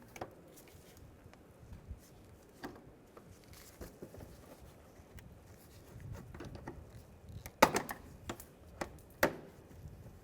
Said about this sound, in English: Use a trim tool and take that off.